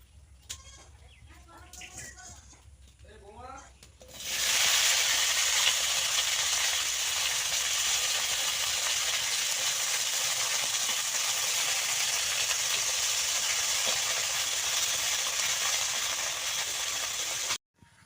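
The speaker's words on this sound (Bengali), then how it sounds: "এবার কড়াই পড়বে ঢেঁড়স" Okra is fried in oil in a wok for a light vegetable curry, making a loud, steady hiss and sizzle that begins suddenly after a few seconds of talk and carries on unbroken nearly to the end.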